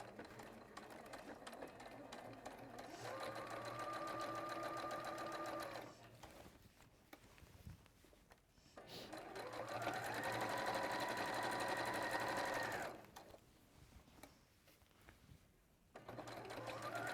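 Domestic sewing machine stitching a pinafore seam, running in two long steady bursts of several seconds each with a quieter pause between them, close and clear with no talk.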